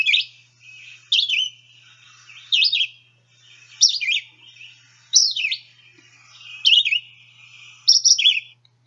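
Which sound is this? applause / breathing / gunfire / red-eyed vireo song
red-eyed vireo song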